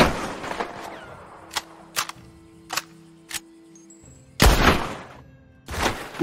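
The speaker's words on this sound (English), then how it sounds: "which is the bolt action rifle. It's strong and versatile with an ammo capacity of 5 rounds, an ideal choice for long-range combat with multiple targets." Bolt action rifle from Red Dead Redemption 2 firing in spaced single shots, each sharp crack followed by a short tail and faint mechanical clicks of the bolt between rounds, ending with two louder, fuller blasts.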